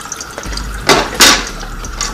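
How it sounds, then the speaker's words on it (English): Water from a tap splashes over a julienne peeler being rinsed in a sink, with two short louder bursts of running flow over a steady low background. "I'm just simply going to rinse it off like this."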